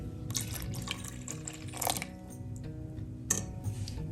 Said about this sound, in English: you will add in the milk